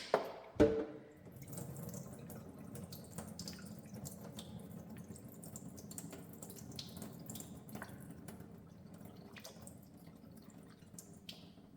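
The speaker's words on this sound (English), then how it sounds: "Once all the water's drained out from the hole at the top, your machine is fully drained" Water draining out of an upside-down Baby Brezza Formula Pro Advanced machine into a sink, opening with two sharp knocks and then a steady close trickle with scattered drips, no voices.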